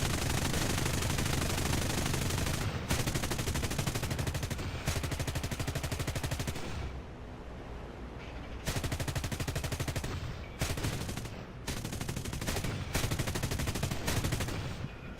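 Machine gun bursts are fired at a B-29 bomber at long range in War Thunder, loud and close, coming in a long sustained volley and then several shorter bursts separated by brief gaps, with no talking.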